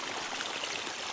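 Water running out of polypipe irrigation onto a bean field, a steady, dense rushing flow with no break and no voices.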